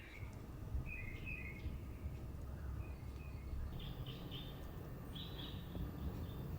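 Birds chirp in short, scattered bursts outdoors beside a busy street, their calls faint over a steady low rumble of traffic.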